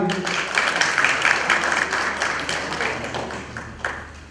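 An audience at an award ceremony honoring a recipient claps in a fairly loud, uneven round, with a voice or background murmur mixed into the clapping over a few seconds.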